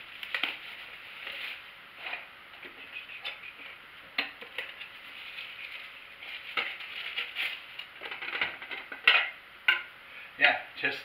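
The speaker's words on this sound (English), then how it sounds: "Aluminum mess kit. Let's get this open." Light metallic clinks and rattles come and go as thin aluminum pieces are handled and pried apart, sharper taps near the end, close up.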